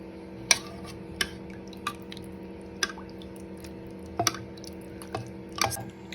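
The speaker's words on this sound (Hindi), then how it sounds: "अभी मैं सॉस के साथ गार्निशिंग करूंगी सॉस डाल के।" Thick sauce poured over Tibetan laphing in a bowl gives a handful of soft, wet squishes and drips, spaced irregularly and fairly faint against a low steady hum.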